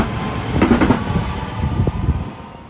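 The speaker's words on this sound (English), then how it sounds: "This is actually my first time getting here by train." Train ride to Highland Park in Los Angeles, a steady rumbling rail car interior with faint rhythmic wheel clicks and a few soft knocks, close and continuous for under three seconds.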